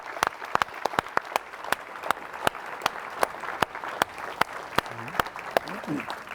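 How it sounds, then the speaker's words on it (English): Applause at an annual dinner and consulate anniversary ceremony, with sharp separate claps spread at a fairly regular pace over a quiet room background and faint voices near the end. "we would love to give you a big round of applause"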